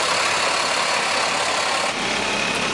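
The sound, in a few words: truck engine idling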